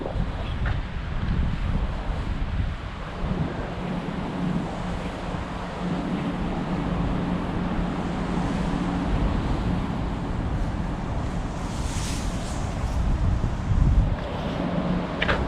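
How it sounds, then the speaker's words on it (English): Strong wind blows by a harbor in Helsinki, a steady loud roar buffeting the microphone with a rumbling low end throughout, and faint water or boat sounds underneath. "How windy it is right now"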